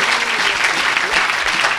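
A church congregation at a worship service breaking into loud, dense applause, a continuous wash of clapping from many hands close by, brief and sustained.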